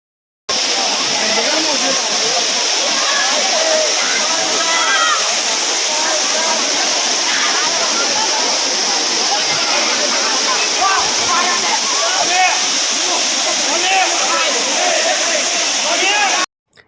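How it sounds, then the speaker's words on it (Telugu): A waterfall near the Sri Penusila Lakshmi Narasimha Swamy temple in Rapur mandal, Nellore district, roars steadily and loudly, a dense continuous rush of crashing water that holds constant for about sixteen seconds before cutting off. "ఇప్పుడు మీకు జలపాతం సౌండ్ వినిపిస్తాను వినండి"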